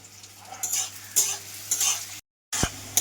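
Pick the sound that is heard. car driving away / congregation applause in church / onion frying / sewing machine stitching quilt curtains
onion frying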